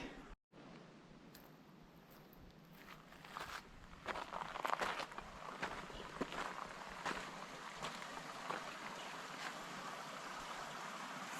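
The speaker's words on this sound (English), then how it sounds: "Let's have a look at this beautiful little creek." A small creek at El Questro flows steadily, a broad close wash of running water with some brief knocks and rustles, with no voices.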